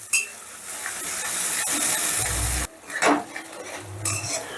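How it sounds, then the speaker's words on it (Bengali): Ginger, garlic and onion spice paste frying in a pan over high gas heat, with steady sizzle and repeated scraping and clinking of a spoon against the pan as it is stirred, close and fairly loud. "গ্যাসের আঁচটা বাড়িয়ে দিয়ে মশলাটা বেশ ভালো করে কষে নেব"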